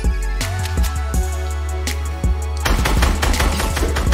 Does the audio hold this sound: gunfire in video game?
yes